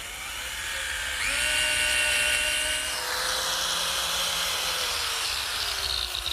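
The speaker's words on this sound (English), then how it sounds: "I'm simply placing the biscuit joiner against the cleat and making the corresponding slots" A biscuit joiner cuts slots into a one-inch wooden cleat in a workshop, a high whining motor spinning up sharply, holding a loud buzzing pitch, then easing down, with no talk.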